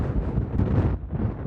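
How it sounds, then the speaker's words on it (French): Wind gusting across a large parking lot beside coastal dunes, a steady low rumbling roar that buffets the microphone, loud and continuous, with no one talking. "J'espère que le vent se sera calmé."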